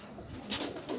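Pigeons coo softly in a low, murmuring rhythm, with a couple of brief airy flutters from wings, all faint and close with no talking.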